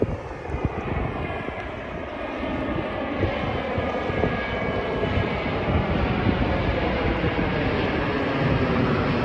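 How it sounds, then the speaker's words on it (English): An airplane flying overhead on a summer day at Botany Bay, a loud, continuous engine roar that builds slightly and holds steady across the whole stretch, with no voices. "The plane!"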